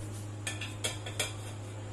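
Dishes and a bowl are handled in a home kitchen while milk is being covered: three short clinks and knocks of crockery land at an even pace, close by, over a steady low electrical hum, with no talk.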